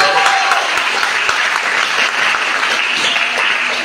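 A church congregation applauds and cheers in acclaim for Jesus, a dense, continuous wash of clapping filling the room at steady volume.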